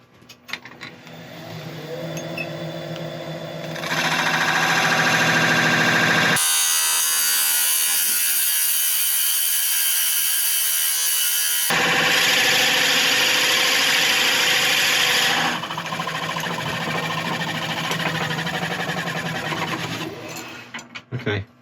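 Wood lathe running with a Forstner bit boring into the turned wood, a loud sustained whirring grind that rises and drops in sections as the bit cuts, with a lower motor hum between passes.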